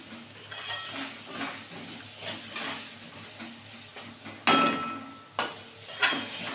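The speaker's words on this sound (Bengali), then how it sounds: "এই যে অল্প করে হলুদ দিয়ে দেবো, দিয়ে ভালো করে ভেজে নেবো আলুটা" Potatoes with a little turmeric frying in a pan for a snakehead fish dish, soft sizzling under repeated stirring, with sharp metallic clinks of a spatula against the pan in the last two seconds.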